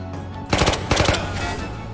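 Rapid SMG gunfire in the video game Ghosts of Tabor, two quick close bursts of several shots each, loud against a low ambient hum.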